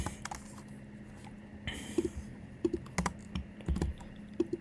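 Keys clatter on a computer keyboard in short, uneven bursts of typing, fairly close and moderately loud over a faint steady background hum.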